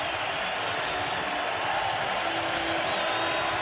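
A large football stadium crowd at an NCAA FCS championship quarterfinal, South Dakota vs Montana, roars steadily and loudly on a third down, a dense continuous wall of noise with no breaks.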